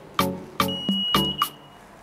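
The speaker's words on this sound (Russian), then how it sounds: "Сейчас вы слышали оповещение о том, что до окончания таймера хранения осталось 5 минут." Four short electronic beeps from a food warming cabinet timer, signalling five minutes left on a holding timer, sound at a steady pace, with a faint sustained high tone lingering between them, fairly close and with no talking.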